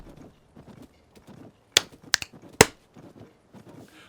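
Golden horse in Tears of the Kingdom walking along a path, a few crisp hoof clops standing out sharply amid quiet, soft background sounds.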